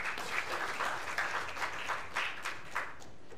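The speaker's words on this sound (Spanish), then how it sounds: "Lo recibimos con un fuerte aplauso." Applause from a conference audience greeting a speaker, a moderate crowd clapping in a steady patter that sounds somewhat distant and fairly quiet, with small swells.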